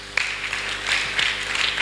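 A church congregation claps for Daniel, a short burst of fairly quiet applause with scattered hand claps blending into a dense patter.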